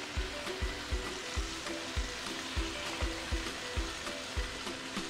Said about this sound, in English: now you can actually toss in your kangkung, yeah, the morning glory here